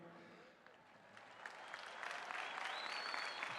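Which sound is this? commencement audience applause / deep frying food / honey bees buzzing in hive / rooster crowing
commencement audience applause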